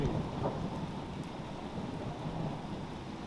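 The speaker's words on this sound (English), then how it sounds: "it's raining a lot" Heavy rain pours down in a steady, dense roar with low thunder rumbling underneath, a continuous storm that never lets up and with no voices over it.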